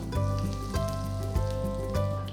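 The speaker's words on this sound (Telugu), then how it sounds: "ఆవాలు చిట్టపడలాడుతున్నాయి" Mustard seeds splutter and crackle in hot oil while tempering for sambar, with dried red chillies just roasted in the pan; a steady, close sizzle with sharp popping bursts recurring every half second or so.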